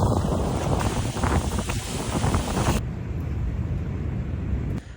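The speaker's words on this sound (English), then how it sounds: "Super windy" Strong wind buffets the microphone at a South Florida state park beach, a constant loud roar with heavy low rumble, easing slightly partway through and cutting off abruptly at the end.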